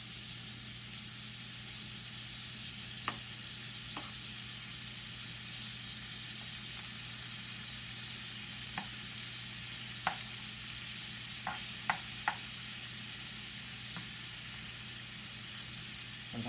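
Brussels sprouts sizzle steadily in a frying pan, a constant hiss with a few sharp clicks and taps as individual sprouts are turned face down.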